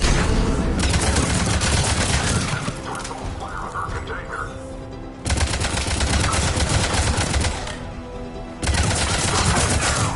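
Dense, loud bursts of automatic gunfire at a checkpoint in the Mass Effect 3 video game, sustained rattling fusillades that pause briefly and resume, with voices talking over the shooting.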